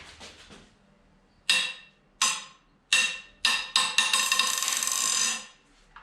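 A T60 bit loosening a cylinder head bolt on a BMW N52 engine, heard as a series of sharp ratcheting clicks and cracks in bursts ending in a longer run of clicking, close and loud.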